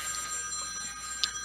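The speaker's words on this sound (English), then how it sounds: "your phone is ringing" A phone rings with a thin, high electronic trill held steady and fairly faint, a brief brighter chirp near the end, with no voices over it.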